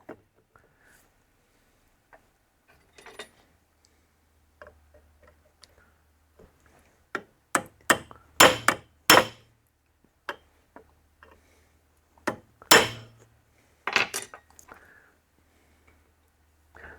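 A rivet being hammered into a drive pulley clutch disc: scattered light taps build into a few sharp, loud close blows in the middle, then irregular ticks trail off, with no speech.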